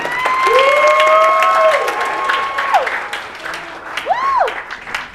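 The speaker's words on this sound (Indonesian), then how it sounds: "Teman-teman, berikan tepuk tangan buat Vero dong." Applause from a church congregation at a Sunday service, steady clapping through the whole stretch with whistling and cheering tones rising above it, fairly loud and close.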